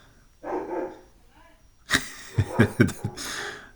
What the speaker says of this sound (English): my dogs, they love to fight with our neighbors